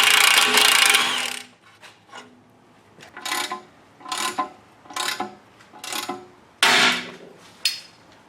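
Ratchet with a 12 point 13/16 socket working a tie rod bolt on an Audi B8 front suspension, a long burst of ratcheting followed by a series of short separate clicking bursts at a steady pace.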